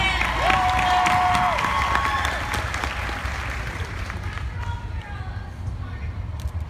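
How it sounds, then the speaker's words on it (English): A VidCon panel audience breaks into applause and cheering, a broad steady wash of clapping and voices that holds loud and slowly thins toward the end. "Let's clap!"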